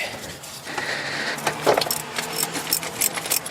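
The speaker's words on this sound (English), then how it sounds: "I got my ratchet." A ratchet working a large bolt on a car starter during a transmission solenoid repair, with bursts of quick metallic clicks beginning partway through, close by.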